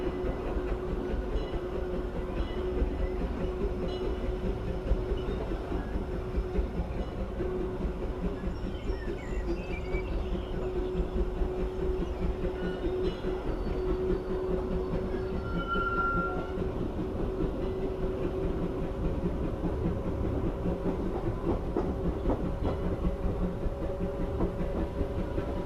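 Big Thunder Mountain mine train ride at Disneyland rumbling and clattering along its track, a steady, loud, continuous roar of wheels and cars with no talking.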